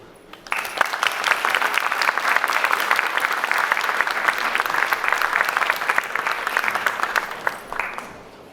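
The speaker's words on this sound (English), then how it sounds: "je vous demande de les applaudir" Audience applause at an event on modern Iranian women artists, rising suddenly into a full, sustained burst of dense clapping that holds steady for several seconds before cutting off.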